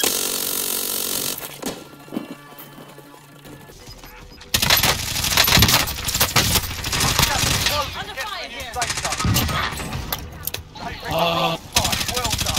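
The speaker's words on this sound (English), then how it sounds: "Good shot, Sean." Video game sniper rifle fire and other loud gunfire bursts break out in short sharp volleys, mixed with excited players talking over the shots.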